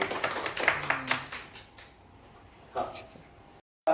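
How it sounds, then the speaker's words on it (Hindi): A small audience at a crypto investing seminar gives a short burst of clapping that thins out within a second or two, followed by quiet room tone and a few scattered knocks. "सर के लिए जोरदार तालियां।"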